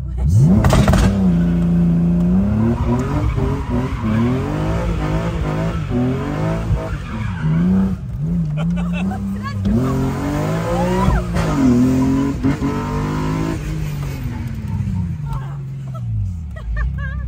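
A car engine revs hard and rises and falls in pitch while tires skid, with crackling pops from the exhaust and voices in the background.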